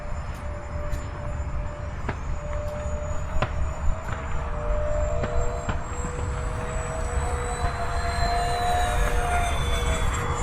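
An E-flite A-10 64mm electric ducted-fan RC jet sweeps past on a full-throttle low pass, a steady loud whooshing whine with shifting pitch that holds throughout, no talking.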